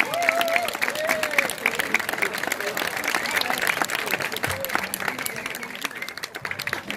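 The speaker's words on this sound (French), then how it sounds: "il va falloir l'applaudir très fort" An audience at a children's singing contest in Surgères applauds a young singer named Alicia, steady clapping filling the room for several seconds, with voices murmuring beneath and a whistle-like tone near the start.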